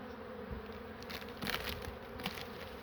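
Honey bees buzz around an open hive in Ardahan in spring, a soft continuous hum with a few louder passes of individual bees close by.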